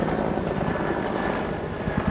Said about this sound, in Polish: Akurat jak powiedziałem, że jest cicho, to helikopter zaczął lecieć na mną.